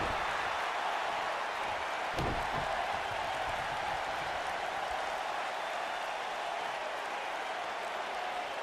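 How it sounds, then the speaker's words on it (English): A wrestling arena crowd in WWE 2K19 roars in a dense, steady wash of noise that stays loud throughout, with a brief thump early on and no clear voice above it. "Fury calling for the crowd, and they boo. They boo in return"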